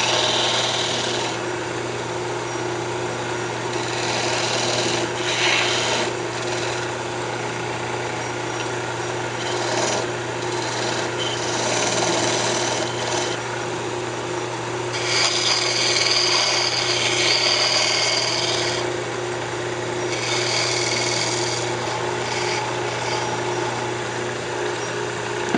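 Wood lathe turning a maple box while a tool cuts a tenon, a steady motor hum under bursts of scraping, hissing cutting noise that come and go throughout.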